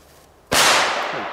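A crackling ball firecracker goes off with one sudden loud burst and shoots upward, followed by a sustained bright crackling hiss that slowly fades.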